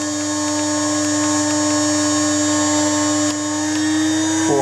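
A 2.2 kW Chinese spindle mounted on a new Z axis plate spins at up to 24,000 rpm, giving a steady, loud high-pitched electric whine with fixed tonal hum that shifts slightly near the end.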